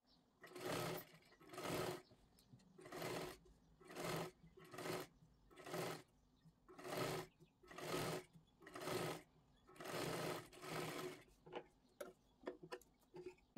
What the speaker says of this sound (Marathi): पूर्ण गोलाकारात ही आधी सर्वात आधी शिलाई मारून घेते